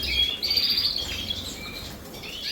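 Canaries in breeding cages chirp and twitter in high, continuous, fairly close song, with a soft background hum and no talk.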